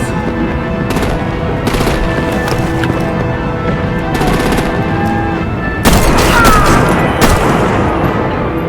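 Heavy artillery and gunfire in the Telltale Batman video game, repeated loud booming bursts and rattling volleys with splintering debris, growing denser and louder toward the end.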